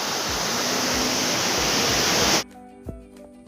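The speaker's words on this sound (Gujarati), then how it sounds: "ધોધ ઉપર." Hathni Mata waterfall roars as a loud, dense rush of falling water for a couple of seconds, then cuts abruptly to a quieter outdoor scene.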